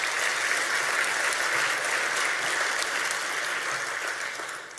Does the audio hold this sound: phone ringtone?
no